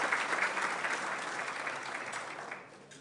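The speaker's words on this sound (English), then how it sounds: "Let's give them a round of applause again" Guests at a business appreciation luncheon in Stanton give a moderate round of applause that gradually thins and fades toward the end.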